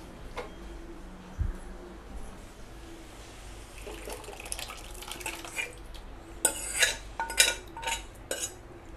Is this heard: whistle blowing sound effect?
no